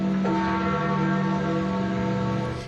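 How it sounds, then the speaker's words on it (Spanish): Church bells ring steadily and loudly, their tones overlapping in a continuous resonant peal with no voices. "Las campanas repicaban"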